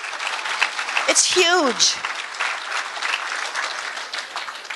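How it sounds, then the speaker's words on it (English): Conference audience at the International Snowmobile Congress claps in a sustained round of applause filling the hall, while a speaker talks briefly over it and a rising, whooping voice cuts through the clapping. "Give yourselves a round of applause for all the friendships you have in this room."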